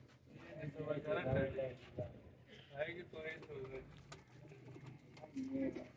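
Pigeons kept for sale cooing in soft repeated throaty calls nearby, mixed with someone talking over them and light clicking handling sounds.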